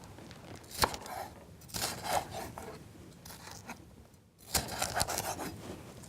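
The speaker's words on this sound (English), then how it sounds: "We'll just chop this up." A knife chops green pepper on a board in short, close bursts of rapid cutting strokes separated by brief pauses, with no talking.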